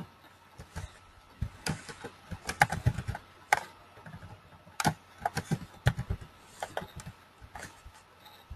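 Rapid, irregular clicks of fingers typing on a computer keyboard, with scattered bursts of keystrokes at close range and short pauses between them, quiet and alone.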